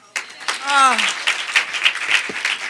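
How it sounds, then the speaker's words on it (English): An audience applauds to welcome Sandra J. Doran as the sixth president, a burst of clapping that starts sharply and carries on with a voice speaking over it early on. "that round of applause of welcome to our new president"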